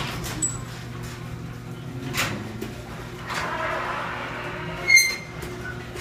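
Craftsman garage door opener closing a squeaky garage door, a low steady motor hum with a few soft clunks and scrapes as the door travels down.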